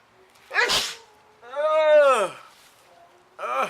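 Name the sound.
sneeze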